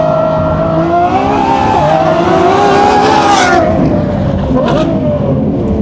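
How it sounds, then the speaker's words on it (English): A high-revving McLaren 750S or Lamborghini Revuelto supercar engine sweeps up and down in pitch at close range on a race track, with brief sharp blips near the end as it shifts down. "Those downshifts are... You're not getting a better sounding car than that all day."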